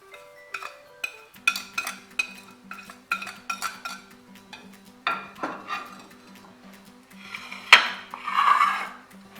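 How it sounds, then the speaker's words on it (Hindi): A spoon clinks and scrapes against a bowl while spices are mixed into gram flour batter for onion pakoras. The taps come in an uneven run of sharp knocks over a quiet background, ending in a louder clatter and rustle. "अब हम ये सारे मसालों को मिक्स करते हैं बेसन में।"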